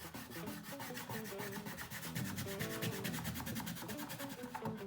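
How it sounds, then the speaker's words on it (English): Rubbing on the side of a painted Star Wars Shock Trooper helmet, applying liquid latex for chipped paint effects: a steady, close scratchy friction with quick repeated strokes lasting throughout, with music playing underneath. "So I'm gonna rub on the side here first."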